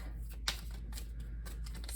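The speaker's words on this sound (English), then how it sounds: "I like to show all of you that I'm indeed shuffling here" Romance Angels oracle cards are riffled and shuffled by hand in quick, soft papery flurries, close but faint, with no talking.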